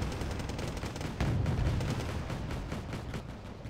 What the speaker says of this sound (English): The Marder 182 is pushing or attacking them from a longer range with their autocannon